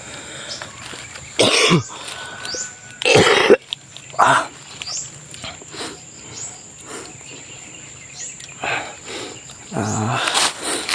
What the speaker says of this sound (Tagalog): Hindi pa rin nawala yung ubo natin no?